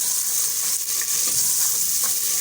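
Tomatoes sizzle steadily as they are stirred into a frying masala, a bright continuous hiss with faint scraping and stirring clicks, close and without speech.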